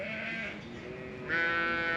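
Sheep on a farm at lambing time bleat twice in a row, close and loud, the second call stronger and more sustained than the first.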